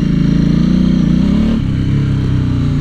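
A Ducati motorcycle engine drones loudly and steadily at close range, the pitch rising slightly before dropping back to a lower running note.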